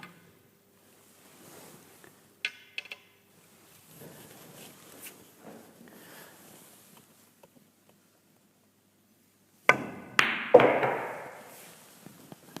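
Billiard balls clack sharply during a pool speed control drill, a few isolated cue strikes and ball contacts early, then a louder cluster of knocks and rolling near the end, with quiet room tone between.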